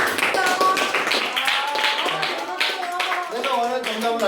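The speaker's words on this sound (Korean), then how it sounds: "박수 한번 주세요." Students at a middle school career talk clap for a classmate's answer, a lively, uneven patter of many hands close by, with some voices and chatter mixed in.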